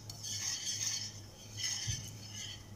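A utensil stirs a flour mixture being dry-toasted in a pan for ranggina, buttered fresh dates, giving a steady scraping and clinking that swells and fades in two waves.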